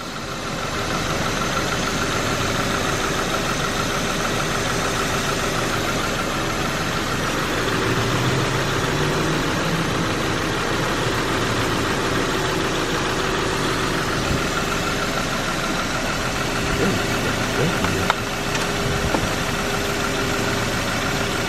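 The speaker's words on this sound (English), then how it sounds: "Car's making so many weird noises." A car engine idles steadily while its AC system is being recharged. It gives a continuous low, even hum with faint rattles and vibration throughout, and no one speaks.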